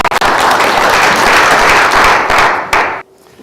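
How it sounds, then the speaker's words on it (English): A loud, dense round of audience applause greets a speaker at an institute event, sustained at full strength and then cutting off abruptly near the end into quiet. "let's give him a big round of applause"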